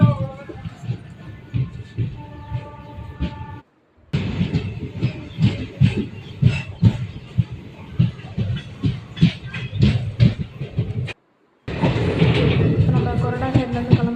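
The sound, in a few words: train departing Koradacheri station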